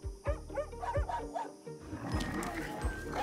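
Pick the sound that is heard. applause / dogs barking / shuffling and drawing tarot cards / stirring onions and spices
dogs barking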